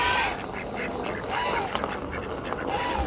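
Ducks quack by a backyard pool in a steady wash of outdoor noise, several nasal calls rising and falling across the few seconds at moderate distance.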